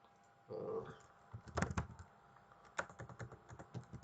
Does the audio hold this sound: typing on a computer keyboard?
yes